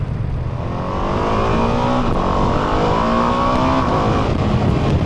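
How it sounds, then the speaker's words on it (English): A Ducati Multistrada V4S motorcycle engine pulls hard, its loud, close roar climbing steadily in pitch through the gears with no talking over it. "I mean, will you just listen to that engine?"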